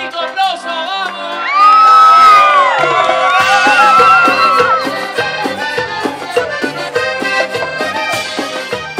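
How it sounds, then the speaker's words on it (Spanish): Crowd at a live music show at a cultural club in San Ramón shouting, whooping and cheering loudly over the band's melodic music, swelling for a few seconds and then continuing in bursts. "que pague la gente de San Ramón con unos gritos"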